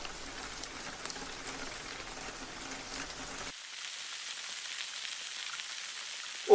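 Rain falls in a soft, dense patter of fine drops, a faint steady hiss that brightens and thins partway through, with no voices.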